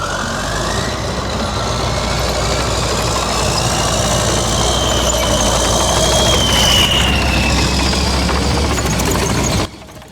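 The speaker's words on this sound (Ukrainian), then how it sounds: "За кілька хвилин машину заводять, і вона виїжджає з укриття на позицію для пострілів" A military truck engine, started at an artillery position, runs steadily close by with a rough, knocking idle and a rising whine as it moves out of its shelter, then cuts off abruptly near the end.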